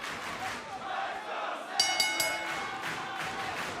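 Wrestling arena crowd at Full Sail University, a dense roar of shouting and chanting fans with bursts of whistles and cheers, continuous and loud throughout.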